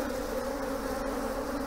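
Honey bees swarm and buzz at an opened beehive, a dense continuous drone that stays steady and close throughout, with no voices.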